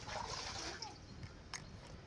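Water poured onto a potted plant splashes faintly and continuously, with a brief click partway through and no clear talk.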